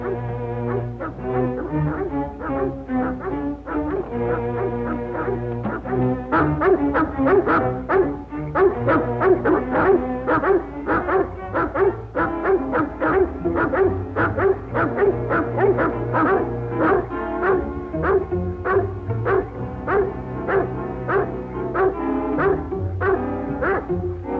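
A pack of dogs barks and yips excitedly outdoors at night, a rapid overlapping chorus of barks that continues throughout, with occasional whimpers.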